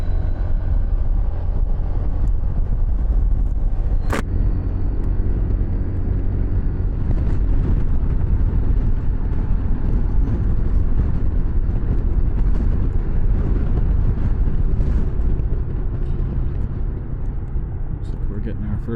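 A BMW C400GT scooter pulls away on the road, its engine and wind noise forming a loud, steady rumble throughout, with a rider's voice talking over it.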